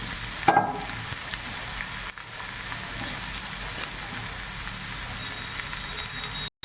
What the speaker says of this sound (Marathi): आधी जरा थोडासा शाबू भाजून घ्यायचा